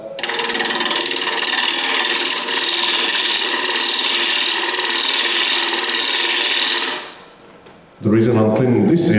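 Wood lathe taking roughing cuts on a wood blank, a loud continuous scraping whir for several seconds that drops away, then a brief burst of talking.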